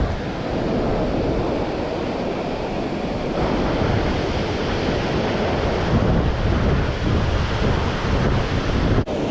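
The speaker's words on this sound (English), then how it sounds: "but the water's so rough" Rough sea waves crash and churn steadily while strong wind buffets the microphone, a dense, loud, continuous roar with no pauses.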